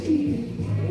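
Pigeons coo close by while being fed, a low steady burbling that carries through the short moment with no voices.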